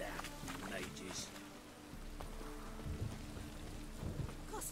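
Steady rain hisses in The Witcher game's city of Novigrad, with low thunder rumbles rolling underneath and the occasional footstep, a dense continuous wash of weather at moderate level.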